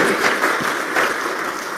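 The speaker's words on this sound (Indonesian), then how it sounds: "Tepuk tangan yang meriah bagi Tuhan" Lively clapping from a church congregation during a sermon, a thick continuous wash of hands with no voices over it.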